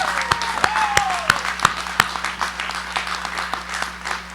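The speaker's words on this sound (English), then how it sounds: "Let's give them all a round of applause" Applause at a 2022 senior high school graduation ceremony, sparse and uneven with distinct sharp claps standing out over a soft background, fading slightly toward the end.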